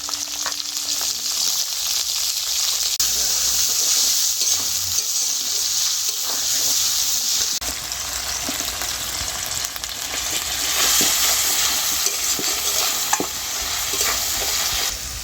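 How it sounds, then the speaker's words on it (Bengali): Ginger-cumin paste and chopped tomato frying in oil, a loud close steady sizzle with stirring scrapes and scattered sharp crackles throughout. "আদা জিরেটা একটু ভেজে নিয়ে টমেটোগুলো দিয়ে দিয়েছি"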